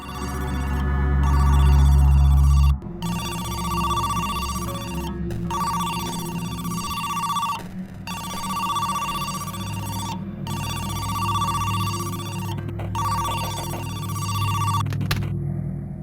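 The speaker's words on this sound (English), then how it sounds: "after practicing, we do get a phone call." Telephone in the video game Who's Lila? ringing in repeated electronic bursts with short gaps between them, loud and alone, after a brief low rumble at the start.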